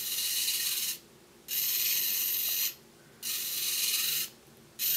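A servo motor set to maximum speed runs in about four bursts, each a steady bright mechanical whir about a second long, separated by short pauses. The sound is close and has no talk over it.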